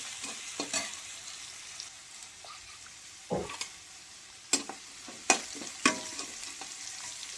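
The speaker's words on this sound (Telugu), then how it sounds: "దొండకాయ ముక్కలు అయితే మంచిగా వేగిపోయినాయి" Pieces of ivy gourd (dondakaya) fry in a pan with a steady soft sizzle, broken by several sharp scraping clacks as a spatula stirs them, close by and with no talking.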